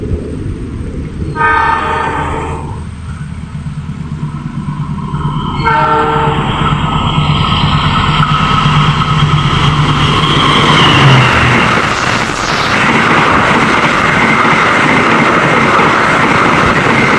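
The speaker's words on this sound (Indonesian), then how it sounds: "itulah dia kereta api Argo Lawu" The Argo Lawu passenger train, with a purple-stripe livery, passes close by, sounding several loud, sustained horn blasts that give way to a heavy, continuous roar of wheels and carriages rolling past.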